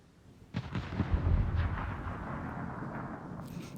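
Warship guns firing a salvo in a naval battle video game: a deep rumbling boom swells in at once and rolls on with thudding follow-up bursts, then trails into a long fading reverberation.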